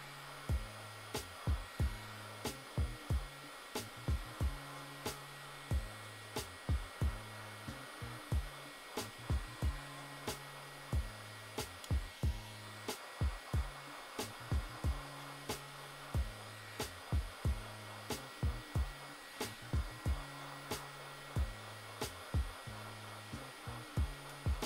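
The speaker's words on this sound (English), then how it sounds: "I'm using an electrical paint stripper." Electric paint stripper heat gun blowing steadily on a soldered Xeon CPU being delidded, a constant whirring fan hiss with a regular series of sharp clicks or ticks throughout, close and fairly quiet.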